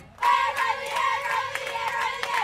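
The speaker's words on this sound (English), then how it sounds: "Cheering fans and teams have taken over city ballparks." Fans cheer and shout at a Senior League Softball East Regional Tournament game at a Worcester ballpark, a burst of excited crowd yelling rising suddenly and holding loud, with scattered claps and whoops.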